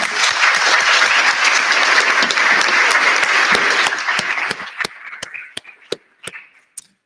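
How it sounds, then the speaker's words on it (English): An audience applauds a panel at a conference on EV regulations and technologies, dense sustained clapping that fills the room for about four seconds before thinning to a few scattered final claps. "Please join me in giving them a big round of applause."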